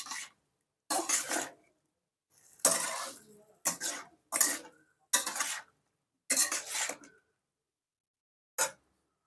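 A spoon stirs mixed vegetables with milk in a cooking pan, giving about eight separate scraping, clattering bursts of metal against the pan, spaced by short silences, close and fairly loud.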